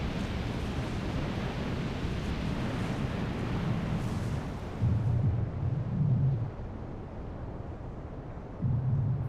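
Explosive volcanic eruption where magma meets water: a continuous heavy roar with deep, booming surges rising out of it at intervals, loud and rumbling without speech.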